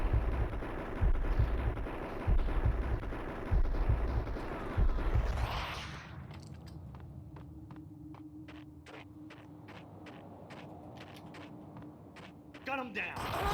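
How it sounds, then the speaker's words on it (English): Gunfire in the video game Max Payne, set in snowy New York: several loud, rapid bursts of shots in the first half, then a lower steady hum with scattered sharp clicks and a brief burst near the end. "Who the fuck is shooting me?"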